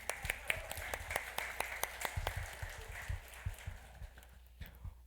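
A church congregation gives Jaqueline a round of applause, with scattered individual claps spaced out in an uneven rhythm that thins and fades toward the end.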